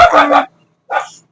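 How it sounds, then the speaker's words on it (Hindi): A pet dog barks indoors, two close, loud barks separated by a short silence. "आवाज़ आ सकती है कुत्ते की भौंकने, एक्चुअली मेरा डॉग है"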